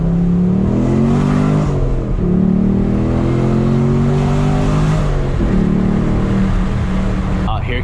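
A Corvette C6 drives past on a busy Miami street, its deep engine note building and fading steadily as it goes by, with traffic noise and a faint voice around it.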